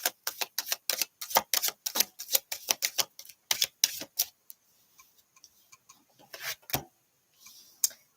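Tarot cards shuffled by hand in quick, crisp bursts of riffling snaps, loud and close at first, then thinning into sparse, softer card taps and a few final flicks, with no talking.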